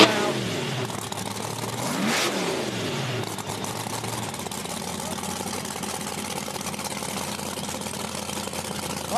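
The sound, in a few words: drag racing car engine running rough after burnout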